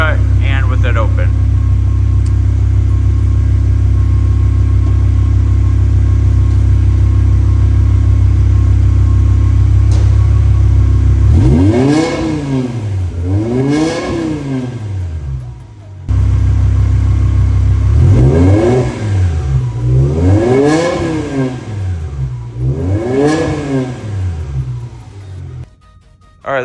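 A BMW E60 M5 with a V10 engine sits inside a closed shop, idling loudly before a series of sharp rising and falling revs, a short pause, then another cluster of revs that echo off the walls.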